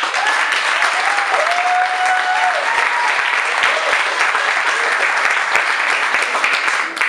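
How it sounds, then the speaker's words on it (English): Comedy show audience at a bar applauds steadily for about seven seconds, a dense, even wash of clapping with a few louder claps poking through and faint whoops underneath. "I wanna say let's give a round of applause for that guy Wildon and little kid."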